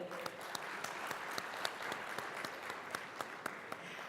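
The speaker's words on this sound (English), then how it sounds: "please put your hands together, ladies and gentlemen, for yourselves" Steady applause from an audience at an evening leadership awards ceremony, a dense wash of many hands clapping with a few sharper claps standing out, sustained and fairly loud throughout.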